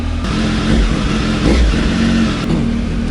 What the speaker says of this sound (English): Okay, the engine is running a bit different as well.